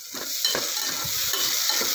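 Chopped tomato is sautéed with onion and asafoetida in a pan, producing a close, lively sizzle broken by repeated scraping stirs of a spatula.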